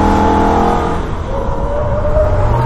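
A Holden race car laps the Nurburgring at speed, its engine loud and close, revving then dropping in pitch as it slides through a corner and picks up throttle again, with no voices.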